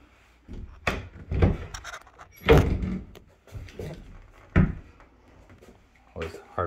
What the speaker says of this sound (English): Always hard to deal with old doors.